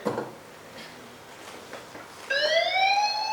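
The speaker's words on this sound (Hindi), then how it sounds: "ज्यादा देर अगर आंखें बंद रह गई है तो ये सायरन जाएगा" After a few faint clicks and taps, an electronic drowsiness-detection siren on an AI robotics device suddenly starts wailing when eyes stay closed, loud and rising in pitch, near the listener.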